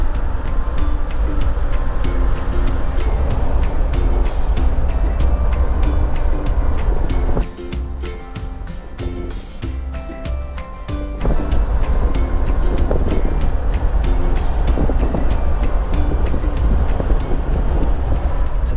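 Steady road rumble and drivetrain drone inside a 4x4 overlanding vehicle cruising at about 40 km/h, loud and continuous, easing briefly in the middle before returning.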